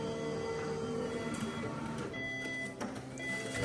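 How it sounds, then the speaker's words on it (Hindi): A printer runs paper documents through with a steady, continuous mechanical whirring and feeding hum, close by, against a busy room background. "ये मैंने इतने सारे पेपर्स प्रिंट किए हैं, अभी और भी करूँगी"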